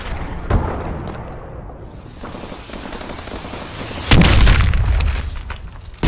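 Missile strike explosions in Call of Duty: Advanced Warfare, with a heavy boom near the start and a louder, sustained blast about two-thirds through, over a steady bed of rumbling battle noise and gunfire.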